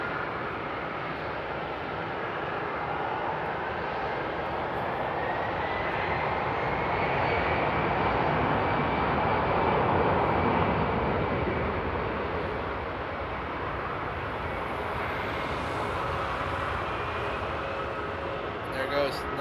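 A jet airliner takes off at Frankfurt Airport on a frosty night, its engines a sustained, broad roar that swells to a peak midway and slowly fades, heard from a distance.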